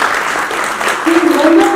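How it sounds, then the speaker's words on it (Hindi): An audience claps loudly for Preeti at a national honours award ceremony held by a charitable trust in Jaipur; the dense applause runs under a speaking voice for the whole stretch. "एक बार प्रीति के लिए जोरदार तालियां।"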